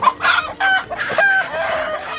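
A native rooster crows loud and close, a single drawn-out call with a few clucks around it and no talking.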